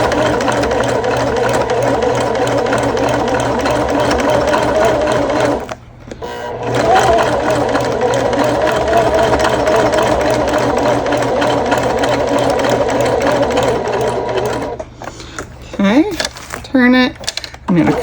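A sewing machine runs steadily while top stitching a bag at stitch length 4, a continuous fast mechanical whir close by, pausing briefly midway and stopping near the end with stray clicks and handling.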